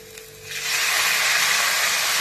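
A quiet moment, then a sudden loud steaming hiss bursts up as water is poured into a hot frying pan of spices and salt, and keeps sizzling strongly to the end.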